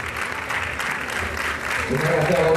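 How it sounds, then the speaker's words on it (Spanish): A crowd at an Andalusian fair proclamation applauds steadily to welcome the speaker, a moderate wash of clapping with murmured voices underneath. "recibamos con un fuerte aplauso a Javier Luque Morales"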